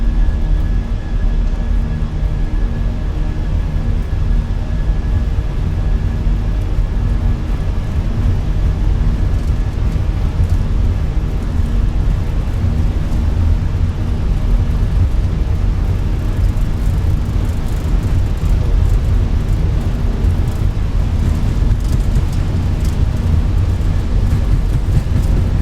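An Airbus A320's engines spool at takeoff power on the runway in Microsoft Flight Simulator 2024, a loud, steady, dense roar with a faint whine, holding constant throughout.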